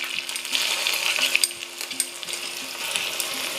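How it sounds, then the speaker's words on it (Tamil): Hot oil sizzles steadily with irregular pops and crackles as mustard seeds splutter, close and continuous with no talking. "பாருங்கள், கடுகு நல்லா வெடிச்சணும்."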